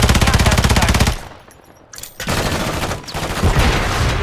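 Rapid automatic gunfire in a shooting video game, loud and continuous bursts with a brief pause in the middle before the firing resumes, no talk over it.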